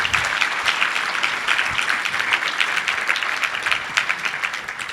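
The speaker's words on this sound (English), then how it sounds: "give yourself a round of applause." Conference audience applause at a cryptography gathering, steady dense clapping from a large crowd heard alone, with no talking.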